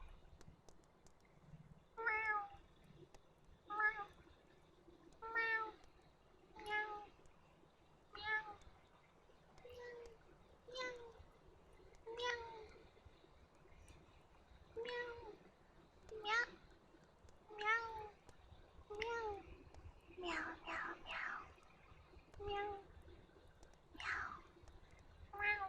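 A soft whispered voice imitates a cat meowing, giving about twenty gentle rising meows in a steady rhythm, close and quiet over faint background hiss.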